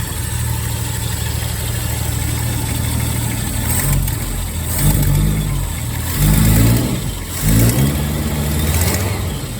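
Car engine idling, then revving in several swelling bursts, with the exhaust sounding from the rear; a loud, close, throaty drone with no voices.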